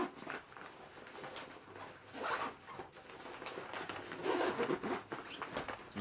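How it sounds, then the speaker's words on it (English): A Bellroy Apex backpack being zipped closed: quiet, close zipper pulls in several short runs, with soft rustling of fabric. "let me zip it back up so I can show you"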